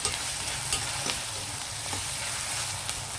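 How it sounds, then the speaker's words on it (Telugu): Ginger garlic paste fries in a pan for a chicken potato curry, giving a steady close sizzle with occasional stirring scrapes and no talking. "ఈ అల్లం వెల్లుల్లి కూడా పచ్చివాసన పోయేదాకా వేగనిద్దాం."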